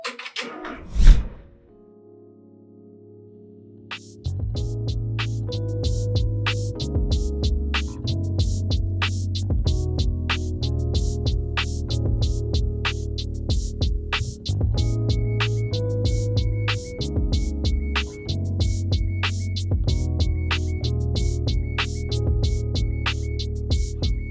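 A Baby Lock Venture embroidery machine starts stitching after a single thunk, then runs steadily with a loud, rhythmic mechanical hum and rapid needle ticks, close and continuous.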